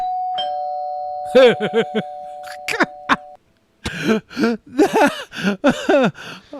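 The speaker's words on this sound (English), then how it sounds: "because of the fucking doorbell at the end" A two-tone doorbell rings near the start, its sustained chime ringing out over a few seconds before a brief pause, after which several people talk and laugh.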